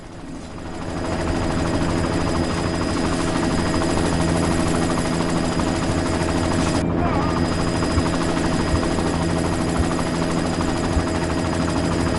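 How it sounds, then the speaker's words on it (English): Helicopter in a video game, a loud, close, continuous rotor thump and engine whine that builds up over the first second and holds steady, with a brief burst of other noise partway through. "You've got to stop that chopper."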